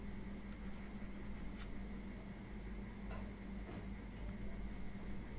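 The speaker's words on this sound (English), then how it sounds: "let me write it clearly." A pen or pencil scratches out a math calculation by hand, giving soft, quiet strokes and occasional ticks against a low steady background hum, with no speech.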